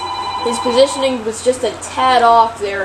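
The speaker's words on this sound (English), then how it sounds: "Sorry about the phone ringing," A telephone rings in the room during a Madden 15 Seattle Seahawks football game, a repeated electronic ring running under continuous talk from a commentator.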